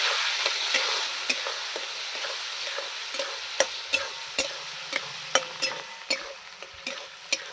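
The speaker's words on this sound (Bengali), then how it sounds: "এবার কষিয়ে নেব।" Masala sautés in a pan for a fish curry, a steady hiss of frying broken by a regular series of sharp spatula scrapes and taps.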